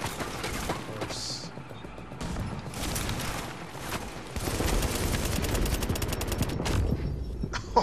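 Dense bursts of automatic gunfire in The Division's Dark Zone, rattling volleys that swell louder in the second half with no talk over them.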